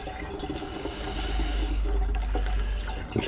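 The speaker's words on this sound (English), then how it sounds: "I'm going to pour this off into my temporary gold stock pot" Liquid holding gold recovered from CPU heatsinks is poured into a stock pot, a steady, close sloshing gush with gurgling swells. It grows slightly fuller toward the end.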